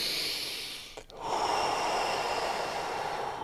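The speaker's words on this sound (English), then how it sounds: "So we're going into 5 deep breaths immediately." A deep breath from a guided TT5 morning breathing session: a long, airy rush of breath close to the mic, then a short break and a steady sustained exhale or inhale filling the rest, with no talking.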